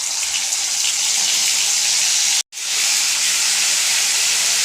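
Ginger and green chilli paste hits hot oil with a loud, dense hiss of frying that runs continuously, dropping out for a brief moment midway before resuming just as strong.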